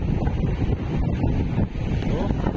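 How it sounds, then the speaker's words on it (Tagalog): During Super Typhoon Pepito, strong sea waves surge near a coastal port while heavy wind buffets the microphone, making a loud, continuous roaring wash. "Grabe po talaga. Hindi basta-basta yung alon."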